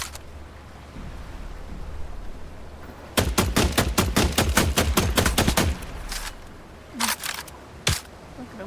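Rapid gunfire from the survival game The Last Caretaker, a fast run of about a dozen close, loud shots followed by a few scattered single shots.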